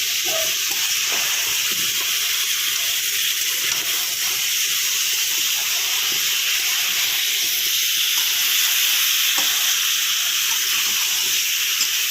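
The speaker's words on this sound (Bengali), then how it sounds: "এখন খুব ভালো করে কষাবো, কষিয়ে দেবো" Chicken stew sautés in a pan, giving a loud, continuous sizzle and steamy hiss that holds steady throughout, with faint stirring scrapes underneath.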